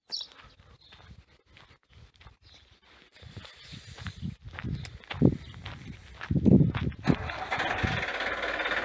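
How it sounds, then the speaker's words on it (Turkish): A farm tractor engine cranks and fires, then rumbles louder as the machine starts moving out, with footsteps and occasional voices nearby at first. "Şimdi traktörümüz çıkıyor."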